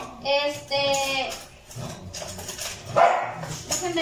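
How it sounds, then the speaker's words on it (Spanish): Pet dogs indoors in a home kitchen bark several times in short bursts, close and loud, mixed with a few yips and whimpers and some brief human voice in between. "disculpen, andan mis perritos aquí"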